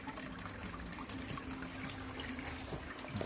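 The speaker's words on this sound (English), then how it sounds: "So crank this pump back up." Pond pump pushing water into a koi pond filter, giving a steady, fairly faint rush of flowing and trickling water with no talking.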